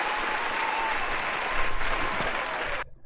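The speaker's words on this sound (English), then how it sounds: "can we give her a round of applause?" An audience gives a round of applause, dense clapping at a steady level for under three seconds before stopping abruptly into silence.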